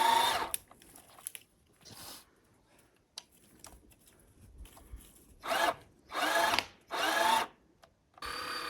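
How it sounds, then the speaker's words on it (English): A hand winch hauling a buried boiler up out of the ground, with a Unimog on a recovery job: bursts of loud ratcheting and cranking come in uneven pulls, separated by quieter pauses. "We needed to add a pulley or a snatch block so we get a little more pulling power out of the hand winch"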